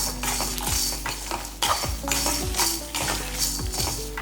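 Onion, garlic and curry leaves for a garlic-onion chutney are sautéed in a pan while a spoon stirs them in regular scraping strokes, with metal clinks over a constant sizzle, close up and with no talking.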